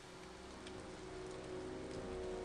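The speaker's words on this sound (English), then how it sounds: "it's storming, or it's raining" Steady rain in the video game Dialtown, a soft continuous hiss of drops on a surface, faint and even throughout with no talk.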